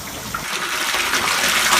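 Water draining out of a catfish pond, a loud continuous rushing gush with no breaks, close and steady throughout.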